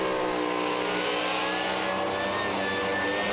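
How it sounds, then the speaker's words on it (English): A drag racing car roaring off the line at a strip, a loud, steady, dense engine blast holding at full volume throughout with a slight rising pitch as it accelerates away. "Car launched well"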